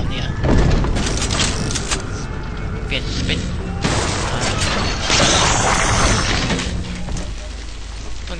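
Booming explosions from a bomb in BioShock 2, a dense run of blasts and crashing debris with loud bursts throughout, under someone speaking over the game.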